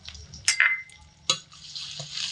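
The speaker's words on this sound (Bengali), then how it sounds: "এই সমস্ত দিয়ে মিডিয়াম আঁচে রেখে ভাজা ভাজা করে নেব" Ginger, garlic and slit green chillies hit a hot pan over medium heat, giving a short burst of sizzle with a couple of sharp clatters from stirring, then a steady soft frying hiss.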